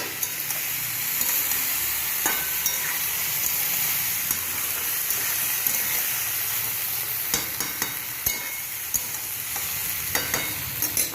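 Pasta hisses and sizzles steadily in a hot pan as it is stirred, with scattered clicks and scrapes of utensils against the metal; no voices are heard.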